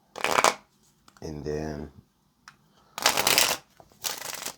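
A tarot deck is shuffled by hand up close in two bursts of quick riffling, each lasting about a second, after a short stretch of speech.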